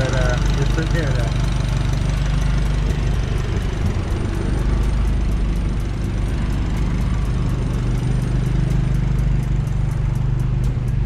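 A turbocharged Honda engine, freshly rebuilt with an injector O-ring fuel leak just fixed, idles loud and steady with a low, rumbling drone throughout and a faint ticking rhythm on top.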